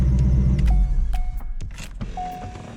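A Corvette C5 engine idles with a low rumble while a noisy belt adds a thin, steady whine and brief chirps. The whine is most prominent in the middle section. No one speaks.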